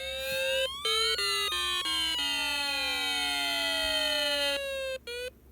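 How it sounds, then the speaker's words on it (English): A Snap Circuits Arcade electronic fire engine siren wails in rapidly shifting tones, stepping and sliding through pitches with brief cuts, bright and synthetic. "I chose the fire engine siren."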